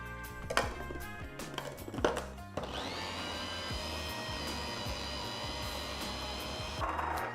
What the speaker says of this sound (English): Now we're gonna add it into the food processor and make it into like a mash.